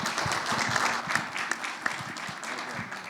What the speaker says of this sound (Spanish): Un aplauso para todos los CISOs.